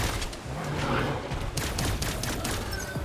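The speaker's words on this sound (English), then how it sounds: "Let's throw another grenade" Grenades going off in the sci-fi game Cygnus Enterprises, a busy stretch of sharp bursts and rapid crackling blasts layered over constant battle noise, fairly loud and close.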